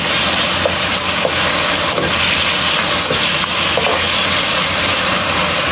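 Pork sizzles and hisses steadily in a hot pan, with occasional stirring scrapes breaking through the constant loud frying.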